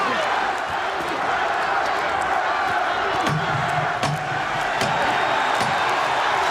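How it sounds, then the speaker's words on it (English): A boxing arena crowd at the Larry Holmes versus Ray Mercer fight roars on its feet, a thick sustained wall of cheering with sharp claps and thumps, while a commentator speaks over it. "The crowd on its feet."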